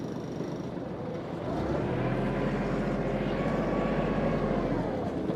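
A Kubota KT24 mini tractor with front-wheel drive engaged pulls away, its diesel engine settling into a loud, steady low rumble close by.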